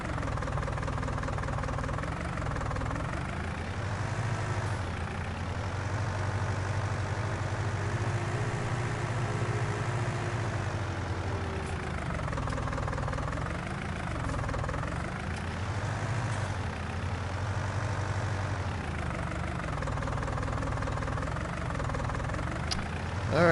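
A tractor engine idles steadily in Farming Simulator 19, a low continuous rumble with slight rising and falling swells, alone and even throughout.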